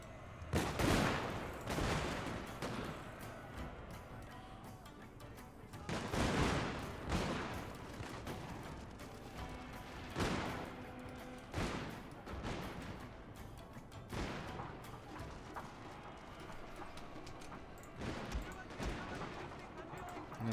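Matchlock volleys from Japanese troops in Shogun 2 Total War crack out as a series of loud bursts a few seconds apart over battlefield noise, with someone talking over them.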